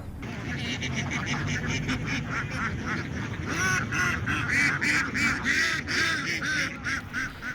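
A large flock of about 1,200 ducks on a riverside duck farm quacks continuously in a dense, overlapping chorus that grows louder midway, with some voices faintly in the background.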